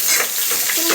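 Onions and curry leaves sauté in a hot pan for mutton chukka, a steady close sizzle with soft stirring throughout the short moment.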